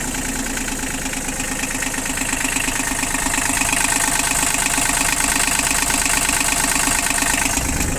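A Japanese mini excavator engine, bucket size 0.01 cubic metres, runs at a steady idle nearby, with an even mechanical chug that holds throughout and no voices.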